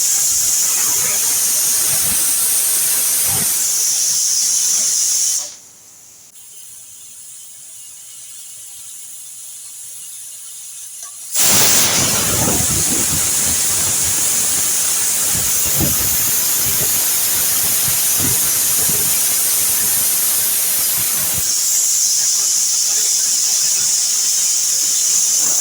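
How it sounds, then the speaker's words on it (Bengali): A pressure cooker of beef curry with potatoes lets off a loud, continuous hissing steam whistle that cuts out for several seconds partway through, then starts again just as strongly. "এখানে 5 থেকে 6টা সিটি দেওয়া হয়েছে"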